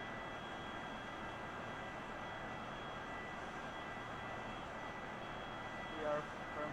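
Airplane engine taxiing slowly at about 3 knots in a flight simulator game, a steady even hum and whine that stays level throughout, with a brief bump near the end.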